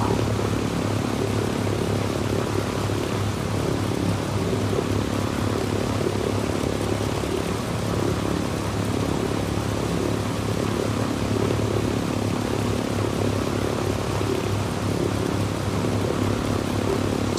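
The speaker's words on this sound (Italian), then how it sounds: "Sto continuando ad aumentare l'altitudine dell'aereo." A steady propeller-plane engine drones continuously at a constant, fairly loud level throughout as the plane climbs in the video game Ghost Recon Wildlands, with no talking.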